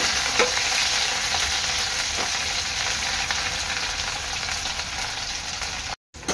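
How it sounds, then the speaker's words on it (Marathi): Okra fries in hot oil with a dense, continuous crackling sizzle that stays loud and even throughout, broken only by a brief cut near the end and with a couple of faint stirring knocks. "भेंडी आहे ना चांगली फ्राय करून घ्यायची तेलात।"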